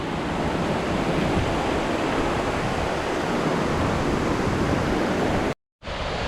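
Tumpak Sewu waterfall in Indonesia roars as a loud, steady broadband rush close by, with no voices, broken by a brief cut near the end.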